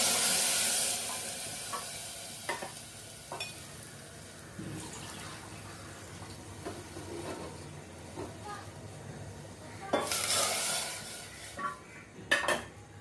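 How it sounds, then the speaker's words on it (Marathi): Phodni tempering for Maharashtrian kadhi hits hot oil with a loud hissing sizzle at the start and again near the end, while metal utensils clink and scrape in between. "फोडणी देत आहे"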